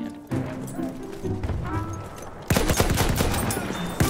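Gunfire in the video game Battlefield 1: a dense mix of rapid shots and blasts that turns louder and busier halfway through, with the sustained crackle of automatic fire and no voices.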